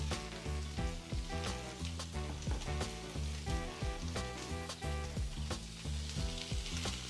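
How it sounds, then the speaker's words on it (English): Peppers and onions sizzling in a skillet with crackling pops, heard faintly beneath strong music with a steady beat that dominates throughout. "We put the peppers and the onions in the skillet first. Ooh, popping off."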